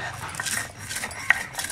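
Spices being ground by hand on a traditional pata grinding stone in a village kitchen while making amla pickle, with a few rasping, scraping strokes of stone on stone that come and go close by.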